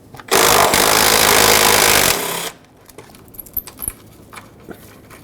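A power tool runs in one loud, steady two-second burst, removing the 8mm bolt that holds the fan shroud to the radiator on a 2011-2016 Ford F-350 with a 6.2L V8, followed by quiet clinks and handling noises.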